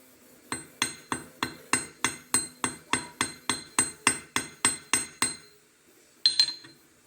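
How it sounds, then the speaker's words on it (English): A bronze needle is hammered in a workshop while being twisted to taper it: about fifteen crisp, ringing metallic blows in an even, brisk rhythm, close and clear, then a pause and a short clink at the end. "I'm twisting the needle and hammering on it."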